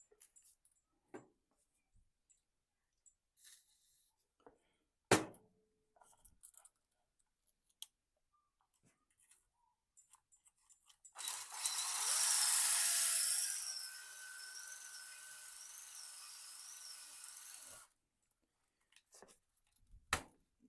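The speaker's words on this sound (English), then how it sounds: "go ahead and use this brake hone to hone out these hose for the polyurethane bushings" A brake hone spins inside the rusty bushing holes of a leaf spring, giving a steady, buzzing abrasive whir for several seconds, framed by scattered clicks and knocks of handling before and after.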